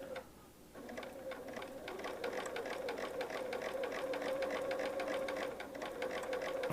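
A sewing machine stitches a curved paper-pieced quilt unit, running in a fast, even rapid tapping rhythm at low volume and close by, with a short pause near the start before the steady stitching resumes.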